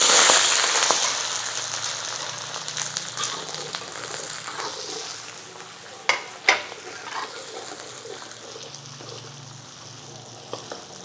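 Sliced onions sizzle as they hit a hot frying pan, a loud hiss at first that settles into a steady fry, broken by a few sharp crackles and pops.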